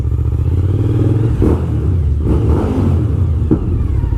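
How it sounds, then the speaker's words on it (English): A car engine rumbles and revs in short bursts in a sandy parking lot, the exhaust note swelling and dropping a few times, loud and close with some clattering. "There you go, little exhaust noise."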